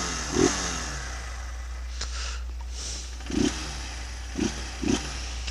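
Honda CG 160 motorcycle engine idling with the oil hot after a ride, a low steady hum under a few soft, brief bumps, fairly quiet overall.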